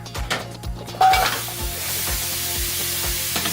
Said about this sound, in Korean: 들기름 조금 넣어가지고 저는 볶아서 할 겁니다.